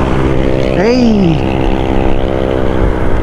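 Motorcycles passing a rider on a Honda Click 125i scooter, with one sweeping engine pitch rising and falling as it goes by, over steady road and wind rumble, with faint voices.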